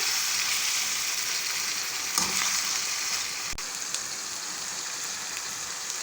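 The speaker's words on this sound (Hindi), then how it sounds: "कीमे को अच्छी तरह फ्राई कर लेंगे।" Minced beef sizzles and crackles steadily in hot oil for keema karahi, with a brief stirring scrape partway through.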